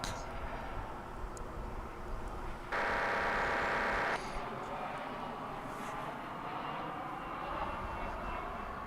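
An airliner arriving at DFW International Airport at night, its engine roar loud and sustained across the clip with a brief louder whine partway through, while people talk over it.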